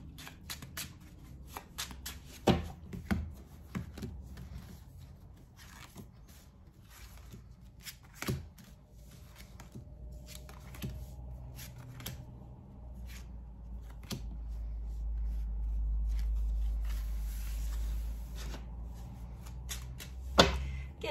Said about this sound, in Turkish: Ve tekrar bir karıştırayım.